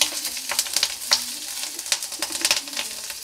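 Green chillies frying in hot oil among spices, close and moderately loud, with sharp crackling bursts over a soft continuous sizzle.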